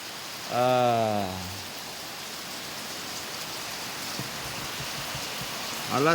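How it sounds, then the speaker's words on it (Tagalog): Steady rain pours through the night, a continuous soft hiss of drops on surfaces that holds even throughout, with a voice speaking briefly near the start and again at the very end. "So niboylo na sad ang ulan."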